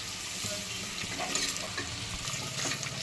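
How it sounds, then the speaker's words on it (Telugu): Eggs frying in a pan with turmeric and coriander powder for egg biryani, a steady close sizzle with soft stirring scrapes, alone without talk. "కొద్దిగా పసుపు ఇలా ఫ్రై చేసుకుంటే ఎగ్స్కి బాగా ఉప్పు కారం పడుతుంది."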